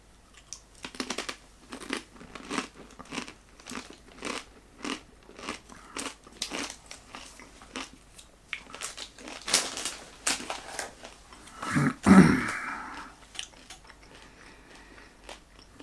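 A very spicy crispy chip is bitten and chewed up close, giving a long run of loud, rhythmic crunches and crackles that build to a heavier crunching burst near the end, with no talking.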